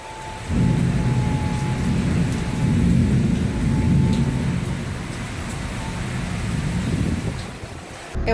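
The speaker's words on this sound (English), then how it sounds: "It was like a torrential downpour and lightning everywhere, thunder everywhere." Heavy torrential rain roars in a sudden thunderstorm on the deck of a Mexican Riviera cruise ship, a loud continuous wash with deep rumbling thunder beneath, dropping off briefly near the end.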